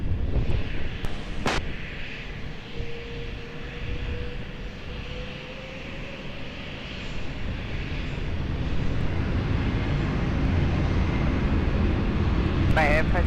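An airplane at Lisbon Airport roars on takeoff, a broad steady engine rumble building gradually louder, heard from a distance alongside a radio voice and a few sharp clicks.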